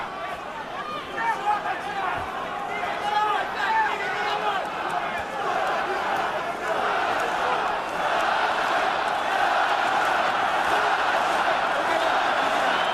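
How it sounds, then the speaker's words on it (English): A large Russian boxing crowd roars in support of Povetkin during his fight with Wladimir Klitschko, a dense, steady arena swell that builds and holds, with commentary voices mixed over it. "Russian crowd trying to lift Povetkin"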